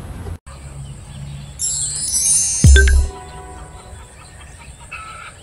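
Gilmore gamefowl chickens and young chicks in a backyard pen, giving a short burst of shrill, high clucking and crowing calls over a quiet rural background with a brief low thump.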